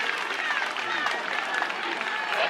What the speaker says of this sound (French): Levez-vous, applaudissez pour le conseiller pédagogique.